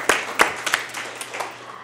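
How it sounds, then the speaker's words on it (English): Brief applause from attendees at a community forum on an annual plan draft, a short burst of scattered hand claps that fades quickly within two seconds, fairly close and loud. "Give yourself a round of applause."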